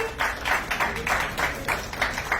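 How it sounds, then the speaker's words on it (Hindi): Audience at a live film event for the Bhojpuri movie Rang De Basanti breaks into clapping, a moderately loud pulsing run of hand claps over a few seconds, with no speech over it. "जोरदार तालियां हो जाए"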